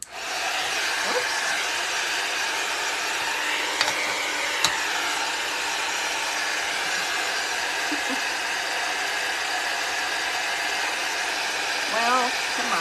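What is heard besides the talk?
heat tool melting white embossing powder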